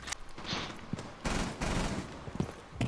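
Gunfire in Rainbow Six Siege, with bursts of shots coming through a wall, dense and fairly loud, clustered around the middle of the short stretch with scattered single cracks.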